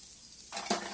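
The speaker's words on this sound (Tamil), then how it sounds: "இப்போ அந்த வெங்காயத்தை சேர்த்ததுக்கப்புறம் அதையும் நல்லா இந்த மாதிரி வதக்கி கொடுத்துடலாம்." Finely chopped onion hits hot oil on an iron dosa tawa, setting off a sudden close sizzle about halfway through, followed by a brief scrape or stir and steady frying hiss, with no talking.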